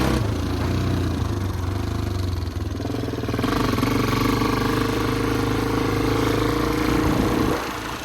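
A Kawasaki KFX 400 ATV engine runs loud and close, revving and shifting through its gears with a steady buzzing drone that changes pitch midway and drops off near the end.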